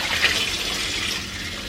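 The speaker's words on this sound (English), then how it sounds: "dump the water, and fill it up with fresh water" Fresh water runs steadily into a glass plant propagation jar, a close, continuous splashing gush with no voices.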